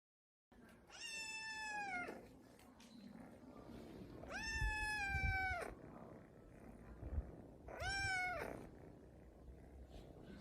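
A kitten meows three times in clear, rising-falling cries over a steady background hum, with short pauses between the calls.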